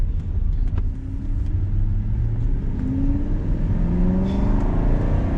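A 2008 Aston Martin V8 Vantage sports car engine pulls away and accelerates on a country drive, a loud continuous rumbling growl rising steadily in pitch with no talk over it.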